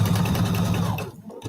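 A sewing machine stitches quilt pieces in a brief, close, steady whir that cuts off near the end.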